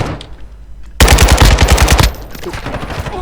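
Bursts of RPK machine gun fire in Call of Duty Warzone 2, a loud rapid string of shots lasting about a second, set against quieter game ambience before and after.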